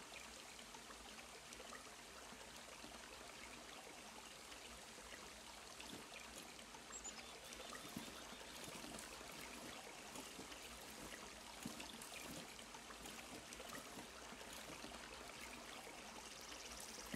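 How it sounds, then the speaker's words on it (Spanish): Steady running water trickles and streams through an outdoor scene in the survival game SCUM, a continuous faint wash with no talk over it. "Todavía escucho el puto agua, tío."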